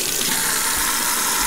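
Water runs loudly and steadily from a tap into a sink during handwashing, a close continuous splashing rush.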